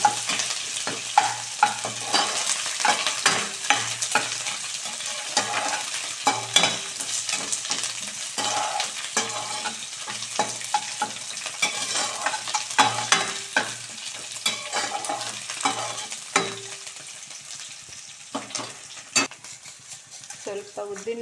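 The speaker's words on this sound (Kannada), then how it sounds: "ಫ್ರೈ ಮಾಡ್ಕೊಂಡ್ಬಿಡ್ಬೇಕು." Bitter gourd gojju frying in a pan, with a steady sizzle and repeated scraping clinks of a stirring utensil throughout, close and fairly loud.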